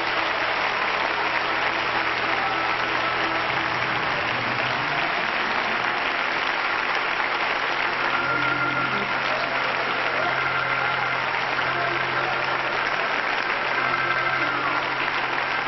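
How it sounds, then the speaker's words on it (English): A church audience in 1993 claps together as an offering, a sustained, dense wash of applause throughout over a low engine-like rumble. "Let's give the Lord a clap offering right now."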